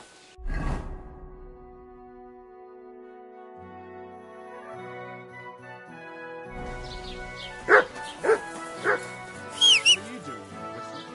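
A dog barks and yelps in the video game Kingdom Come: Deliverance 2. There is a short bark near the start, then a quiet musical stretch, then several sharp yips and barks later over the game's music.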